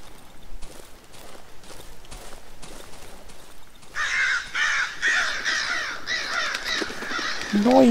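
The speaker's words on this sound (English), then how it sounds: "Noisy, noisy birds." Crows caw repeatedly in the horror game Darkwood, harsh overlapping calls starting midway and continuing loud and close after a quieter stretch of shuffling steps and ambient noise.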